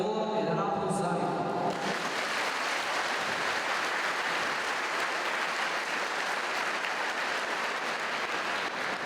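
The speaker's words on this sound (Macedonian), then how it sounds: "Ќе ве молам еден аплауз за нив." An audience at a ceremony for an interethnic integration project breaks into loud, sustained applause right after a brief spoken line, the dense clapping holding steady to the end.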